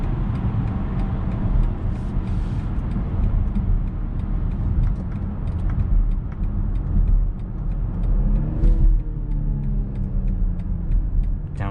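Steady road rumble and engine drone from a 2022 BMW X5 SUV, heard from inside on a test drive as it downshifts, with a brief rise in engine note partway through and continuous tire and wind noise.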